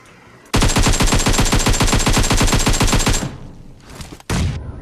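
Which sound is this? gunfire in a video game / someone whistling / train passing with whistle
gunfire in a video game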